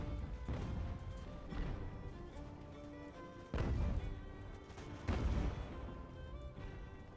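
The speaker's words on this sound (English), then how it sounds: "Hey, shoot the gun." Cannon fire from sailing warships in Ultimate Admiral: Age of Sail during the Whitehaven raid, with several heavy booming blasts at irregular intervals, two especially loud, amid rumbling battle noise.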